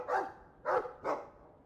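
A Mabari war dog from the video game Dragon Age II gives three loud, distinct barks spaced about half a second apart, with a faint breathy pant in between and no one talking.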